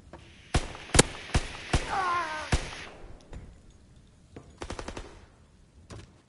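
Sharp gunshots and short automatic bursts in a WWII-era hardcore search and destroy shooter game, loud close cracks early, then scattered distant shots and a rapid burst later, with brief voice chatter.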